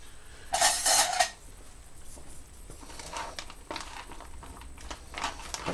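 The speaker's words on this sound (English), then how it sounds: "I'll stir this up because I know the macaroni and cheese tend to have a lot of powder" A metal spoon scrapes and clinks against a pot of macaroni and cheese, starting with a brief loud rattle, then softer intermittent stirring scrapes.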